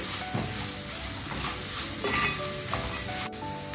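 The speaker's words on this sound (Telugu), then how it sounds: "తర్వాత ఇవంతా కూడా బాగా కలిసేంత వరకు కలిపేసుకుందామండి" Chillies and salt frying in a pan for puri curry while being stirred, a steady close sizzle with scraping stirs and a sharp clink of the utensil near the end.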